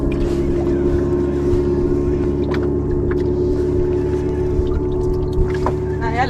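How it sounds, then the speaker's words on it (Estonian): Small boat motor chugging steadily during herring fishing at sea, a constant low drone with faint knocks and splashes, no voices over it. "Mootor on liiga väike. Aga nüüd hakkab minema."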